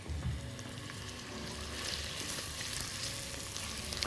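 Onion, garlic and green onion frying in oil in a pan, giving a soft, continuous crackling sizzle like light rain, steady throughout with no talking.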